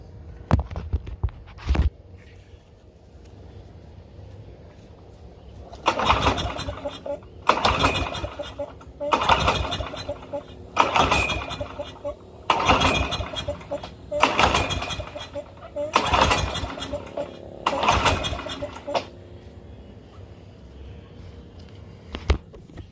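A Craftsman 6.5 hp push mower being pull-started over and over without firing: eight sharp recoil-cord yanks come in a steady rhythm, each a loud rasping burst, with brief pauses between them and no engine catching.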